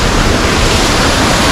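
Water from a hidden waterfall in Kerala pours steadily behind a house, a loud, continuous broadband rush with no breaks and no voices.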